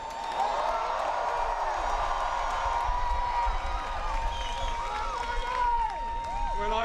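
A large political rally crowd cheering and whooping continuously, a dense roar of many voices with scattered shouts and clapping, filling the space at steady loudness.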